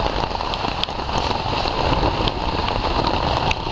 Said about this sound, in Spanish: ya sabéis cómo sigue, lloviendo más